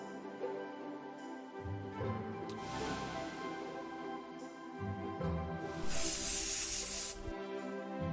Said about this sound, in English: Air freshener spray.